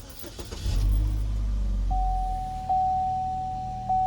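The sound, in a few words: Chevy Equinox being started with keys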